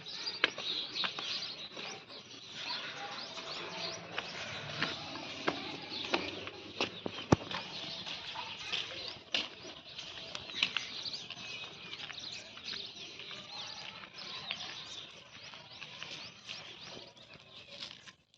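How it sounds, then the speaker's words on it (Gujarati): Pigeons chirp and tweet steadily in the open air on a rooftop, with scattered flutters and soft pattering sounds throughout. "પ્રિન્સભાઈ ધાબા પર ચડે હે કબૂતર ને જાય નાખવા જાય છે"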